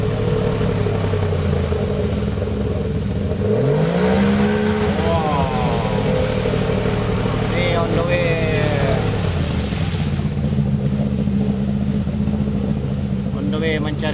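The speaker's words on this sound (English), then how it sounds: "warm up engine" A 60 hp outboard boat engine warming up drones steadily nearby, its pitch rising and falling as it revs, while people talk over it.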